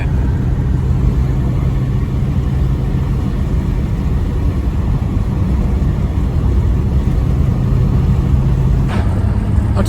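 Inside a Ford EB2 Fairmont Ghia V8 on the move, a steady low road rumble and engine drone fill the cabin at a constant level, with a faint click near the end and no talk.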